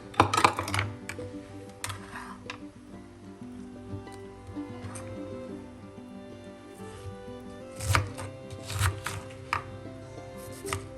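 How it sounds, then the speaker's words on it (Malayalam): A knife chops violet cabbage finely on a board, with quick, sharp strikes in bursts at the start and again later, separated by quieter, sparser cuts; no one speaks. "ബാക്കി കാബേജ് നമുക്ക് ഇതേപോലെ തന്നെ അരിഞ്ഞെടുക്കാം."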